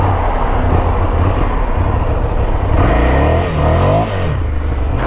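Ducati Scrambler Icon motorcycle ridden on dirt, engine droning steadily then rising in a brief rev as the rear wheel slides, with wind noise throughout.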